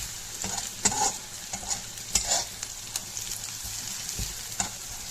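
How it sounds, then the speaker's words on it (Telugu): Spices and food frying in a pan with turmeric for a curry, a soft steady sizzle broken by repeated scraping stirs of a spoon, close and fairly quiet with no talk. "కానీ పసుపు వేసాం కాబట్టి ఫ్రై అయిపోతున్నాయి"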